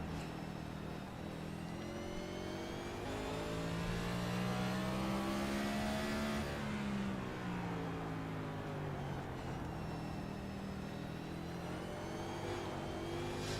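A race car engine at Martinsville heard from the cockpit, droning loudly and rising in pitch, then dipping as the driver lifts off the throttle before picking up again.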